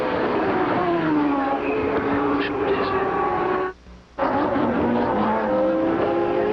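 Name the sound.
Formula 1 race car of Ayrton Senna, onboard at Suzuka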